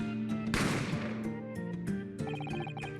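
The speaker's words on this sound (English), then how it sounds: "The gunshot rang out" A gunshot sound effect from The Great Ace Attorney Chronicles video game: one loud, sharp blast with a ringing tail, set over steady background music.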